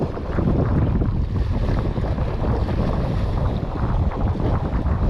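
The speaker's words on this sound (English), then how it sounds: "So it's definitely stirred up today with the wind." Wind stirring up choppy water at a causeway on a windy, rainy, cold day, a steady loud rush of gusts and lapping water with heavy wind buffeting on the microphone and no talk.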